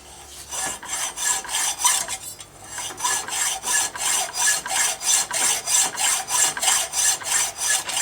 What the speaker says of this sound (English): Started out with a hacksaw.